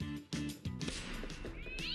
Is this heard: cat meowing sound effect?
yes